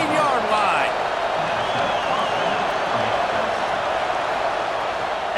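Stadium crowd roars steadily through a Temple vs Tennessee college football video game match, a dense sustained wash of cheering with a play-by-play voice talking over it.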